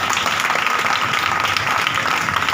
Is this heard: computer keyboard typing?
no